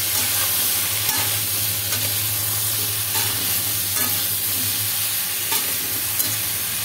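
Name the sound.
stirring vegetables cooking in rice bran oil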